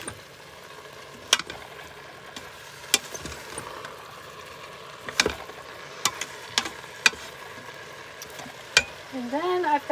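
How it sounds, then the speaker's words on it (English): Vegetables being stirred in a pot for a vegan broccoli cheese soup, with scattered scraping and clinking knocks of the spoon over a low background hiss and a soft voice near the end. "So we want to just mix this up so it's kind of coated"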